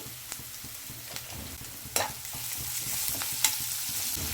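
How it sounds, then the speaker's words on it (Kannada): Chopped onion and green chillies sauté in hot oil with salt in a pan on a low flame for vegetable shavige upma, a steady close sizzle broken by a few sharp spatula scrapes and clinks, with no talking. "ಈಗ ಇವಾಗ ಫ್ಲೇಮ್ ಕಡಿಮೆ ಮಾಡಿ ಸ್ವಲ್ಪ ಕಡಿಮೆ ಉರಿನಲ್ಲಿ ಈರುಳ್ಳಿನ ಸ್ವಲ್ಪ ಇನ್ನೊಂಚೂರು ಗೋಲ್ಡನ್ ಫ್ರೈ ಆಗೋವರೆಗೂ ಬಾಡಿಸ್ತೀನಿ"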